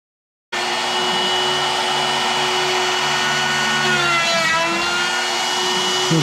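A CNC router drills 3/8-inch holes on the first pass of a bench-building tool path, a loud steady whine that keeps up without a break and shifts slightly in pitch partway through.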